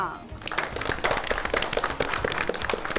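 An audience at the Mahila Kisan Awards grand finale applauds loudly and densely, with voices mixed in under the continuous clapping.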